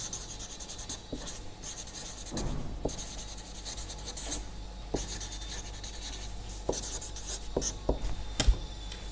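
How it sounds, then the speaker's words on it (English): Handwriting during a mathematics lecture: a pen scratches and taps in quick, irregular strokes with occasional sharper knocks, close and fairly quiet with no talking. "Let me write down all these formally."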